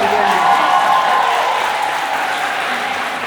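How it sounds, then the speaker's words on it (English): Applause from the audience at a book launch, a continuous wash of clapping in a room with a faint tonal hum beneath, fairly loud at first and easing slightly toward the end. "Of course, we know round of applause."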